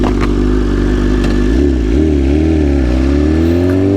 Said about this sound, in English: Exhaust, huh? For an inline four, I'll be honest with you, it sounds amazing.